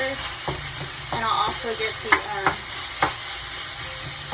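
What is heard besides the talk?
meat browning and sizzling in a frying pan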